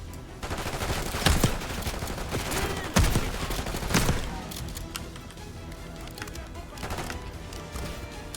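A PP-19 submachine gun fires in Call of Duty Black Ops 6, with rapid bursts of close gunfire, some sharp loud shots, and a voice talking over the fire.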